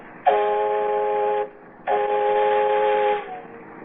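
Two long, steady whistled tones, each held for over a second with a short pause between, clear and close with no talking.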